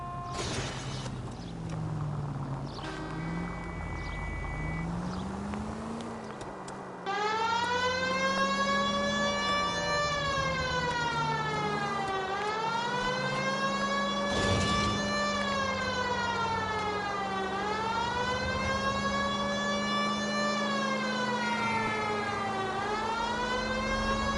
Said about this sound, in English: If you use the siren, maybe those metal things in front of you called cars will know you're in a hurry.